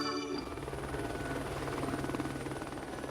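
A helicopter in flight, its rotor throbbing as a steady, dense, continuous roar at moderate level throughout, with no talking.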